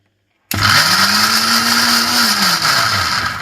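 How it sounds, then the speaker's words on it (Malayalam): A mixer grinder jar whirs loudly as it blends grape chutney ingredients, starting abruptly after a moment of silence and running steadily for about three seconds, its pitch rising briefly then settling as it spins down slightly. "മിക്സിയുടെ ജാറിലിട്ട് പെട്ടെന്നൊന്ന് കറക്കിയെടുക്കാം"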